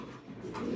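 A Spanish pouter pigeon gives a short, low, muffled coo close by, rising slightly toward the end, over a steady low background hum.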